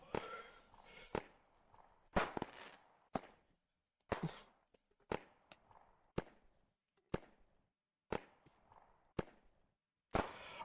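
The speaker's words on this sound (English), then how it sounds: "turn off the fireworks" Fireworks go off in a Sudoku topology puzzle video game: a steady run of about ten sharp, crackling bursts, roughly one per second, each fading quickly into near silence.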